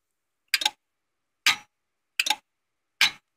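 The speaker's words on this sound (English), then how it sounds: "So you can hear it actuating the clutch." A custom pneumatic system on a Sears Suburban Custom 10XL tractor actuates the clutch, giving four short sharp hissing bursts of air at irregular intervals, close and crisp with silence between them.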